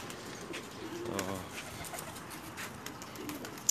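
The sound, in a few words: pigeons cooing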